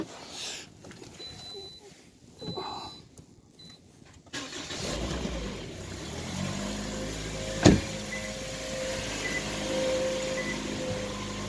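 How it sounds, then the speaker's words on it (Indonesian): A car engine turns over and starts on a snowy street beside a house, rising from quiet background noise into a steady running rumble with a sharp knock partway through. "kita hidupin dulu mesin ya"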